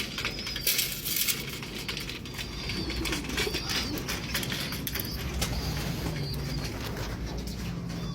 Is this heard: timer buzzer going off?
no